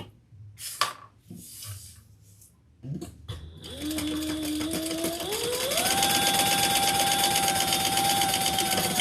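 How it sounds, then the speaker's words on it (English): A sewing machine sews down the sides of a Jasmine handbag with right sides together, winding up from a slow start into a loud, steady hum that rises in speed and then holds, after a few soft handling sounds. "we're going to sew down the sides"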